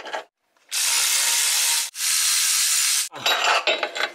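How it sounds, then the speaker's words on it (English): A socket wrench on a six-inch extension loosens a 15 mm bolt on a Chevy Corvette A/C compressor, making two long, loud, close bursts of rapid ratcheting, followed by shorter, choppier ratchet strokes. "I'm gonna use like a 6-inch extension here and put it on the bolt."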